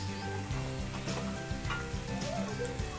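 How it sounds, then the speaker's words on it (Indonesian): Spice paste sautéing in a pan for Bumiayu-style kupat tahu, a steady moderate sizzle with occasional stirring scrapes, running continuously under soft background music. "kemudian tumis bumbu sampai"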